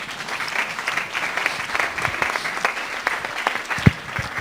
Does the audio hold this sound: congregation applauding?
yes